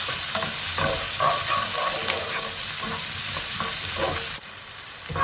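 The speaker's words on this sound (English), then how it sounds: "I'm just going to cook this on high heat for 5 minutes." Sliced onions and green pepper fry over high heat in a pan, a dense continuous sizzle with soft stirring scrapes, close and loud throughout before dipping briefly near the end; no talking.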